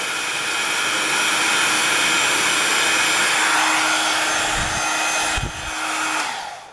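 A heat tool blows loud and steady to heat set a paper Christmas ornament, a continuous close whooshing hiss with a few brief bumps near the end as it dips and shuts off.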